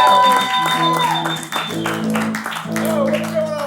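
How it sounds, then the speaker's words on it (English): Live late-show comedy audience applauding as a comedian is brought on, clapping and crowd noise mixed under a strong tonal music or voice layer that dominates the sound. "get the round of applause going for my man,"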